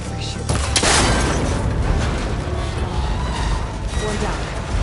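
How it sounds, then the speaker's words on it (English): A single sharp shot near the start, as cable connectors are broken in Horizon Forbidden West, followed by a loud, dense wash of ambient noise with low rumble. "Now connectors holding the cables together. It should break if I shoot."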